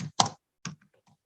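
A few quiet keystrokes on a computer keyboard as a command is typed, two or three soft clicks spaced apart, then near silence.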